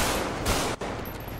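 Dense, continuous gunfire rattles loud and close, a rapid fusillade of shots that briefly drops out before resuming.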